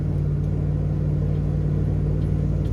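A 3/4 ton crew cab pickup truck with a short box loaded with wood drives along, its engine rumbling as a low, steady drone from inside the cab, with no talking.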